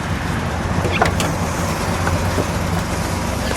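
A black 1970 Oldsmobile Cutlass 442 W-30 convertible with a four-speed manual cruises along, its engine and road noise forming a loud, steady rumble heard from the car.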